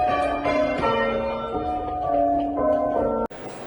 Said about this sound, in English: Paying tribute, bells ring out